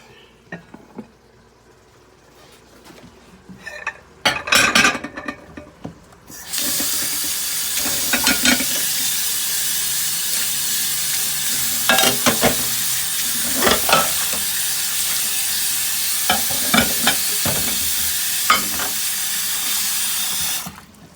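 A spoon stirs beef stew in a cooking pot, giving scattered scraping knocks, then a loud continuous hiss of simmering or running water for the rest of the stretch, with occasional clanks and no speech.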